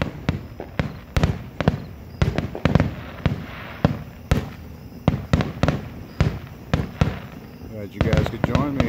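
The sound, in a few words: fireworks grand finale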